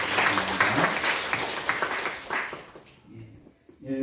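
Loud, dense applause from a church congregation during a Sunday worship service, thanking those who made the church newsletter; a full wash of clapping that holds for a few seconds before dropping off abruptly.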